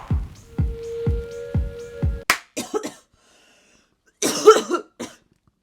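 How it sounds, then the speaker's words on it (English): Four harsh coughs in a steady rhythm, close and loud, followed by a burst of rustling and a few scattered noises. "I cough like a child because I cough with my tongue out like this"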